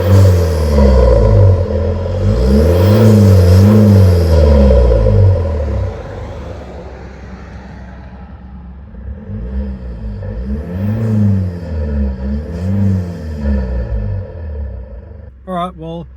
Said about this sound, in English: I'm gonna start it up and give it a couple of revs because the snorkel sounds pretty good.